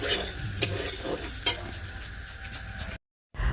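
Stirring and sizzling in a pan on an outdoor clay stove at night, with a few sharp scrapes of the spoon over a steady frying hiss, then a brief cut to silence.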